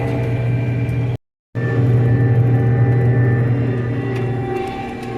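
Combine harvester working a bean field, a loud, steady low engine drone with a constant hum, broken by a brief dropout near the start and then running on evenly.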